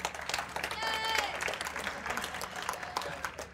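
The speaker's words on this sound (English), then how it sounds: "You get applause, Rob." Church congregation applauding a member named Rob during a Grace Bible Church service, a steady round of clapping over a few seconds with voices and a whistle mixed in.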